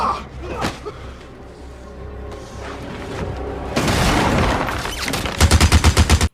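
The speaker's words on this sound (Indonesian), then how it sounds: "Untuk menghentikan senjata Gatling gun yang sangat mematikan itu" A Gatling gun fires in a Western film battle, with dramatic mixed effects building, then a rapid rhythmic burst of about eight loud, close heavy shots at the end.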